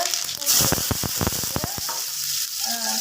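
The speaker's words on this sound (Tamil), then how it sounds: "கடுகு தாளிப்பு அது கொஞ்சம் போடுறேன்" Mustard seeds sizzling in hot oil while tempering for a vegetable gravy: a steady hiss with a quick cluster of sharp pops and crackles near the start, then a softer simmer.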